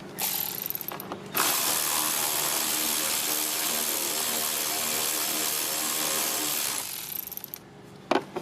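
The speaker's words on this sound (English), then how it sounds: "grab our electric ratchet and socket and loosen our hose clamps" Electric ratchet with a socket loosening hose clamps on the 5.7 Hemi engine of a 2012 Dodge Ram 1500, a loud steady buzzing whir running about five seconds with brief quieter clicks before and after.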